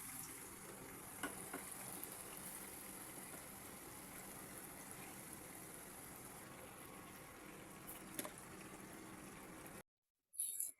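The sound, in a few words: potato vadas deep-frying in hot oil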